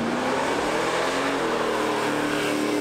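A 1970 Chevelle with a big-block engine roars loudly and steadily as it accelerates away, its deep exhaust rumble sustained with no talking.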